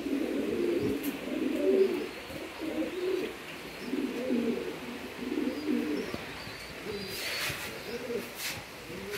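Pigeons kept in a loft coo softly and continuously in overlapping low rolling calls, with faint chirps from other birds.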